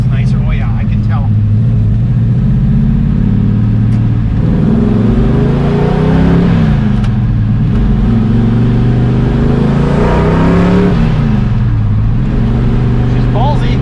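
A 1968 Chevelle with a refreshed LS6 454 V8 cruises in continuous loud engine drone around 2,900 RPM, revs rising and falling in a few smooth swells while people talk briefly over it.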